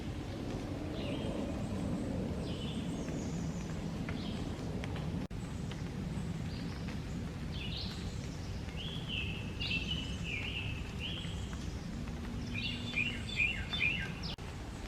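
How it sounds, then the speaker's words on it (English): Several birds sing and chirp in scattered phrases over a steady low outdoor rumble in Iroquois Park on a dark, cloudy morning, fairly faint and a little distant. "Listen to the birds."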